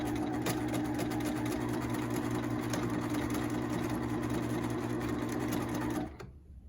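Sewing machine stitching back and forth on an apron pocket, a fast, steady mechanical whir running continuously at close range before stopping abruptly near the end, no talking.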